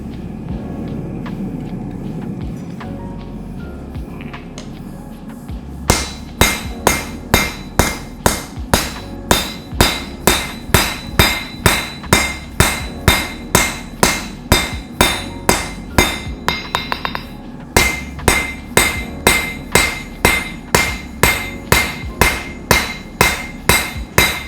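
A hammer forges a Damascus steel kukri blade, first a quieter stretch of mechanical rumble, then a long run of loud, evenly spaced metallic strikes in a quick steady rhythm, pausing briefly before resuming.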